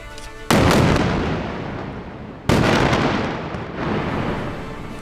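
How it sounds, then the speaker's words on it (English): An airstrike on a news office building sets off two huge blasts two seconds apart, each a sudden loud boom fading into a long rumbling roar as the building collapses into rubble. "So you'll see the building collapses into rubble just a few seconds later."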